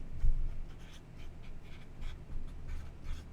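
Marker or chalk strokes on a board as a multiplication is written out, a soft scratchy scraping in short bursts over a low room hum, fairly faint and close.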